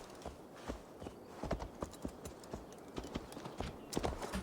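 Horse hooves in Assassin's Creed Valhalla clip-clopping at a steady walking pace, a series of close, sharp knocks with faint background ambience.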